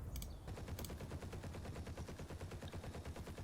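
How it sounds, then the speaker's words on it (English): Aircraft strafing an anti-aircraft gun in the WWII tactical game Combat Mission, with rapid, continuous machine-gun fire rattling in a steady rhythm at moderate distance and two sharp bursts near the start. "The AA gun just got strafed."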